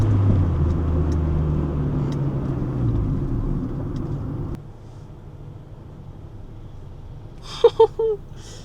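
Acura Integra DC4 with a manual gearbox heard from inside while driving, a low steady engine and road rumble that drops off sharply partway through, followed by quieter cabin hum and a few brief sounds near the end.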